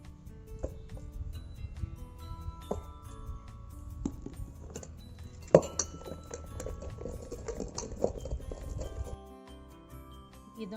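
Urad dal batter is whisked by hand in a metal pot, giving close, rhythmic tapping and sloshing strokes at a moderate level with a few sharper knocks, before the strokes stop near the end.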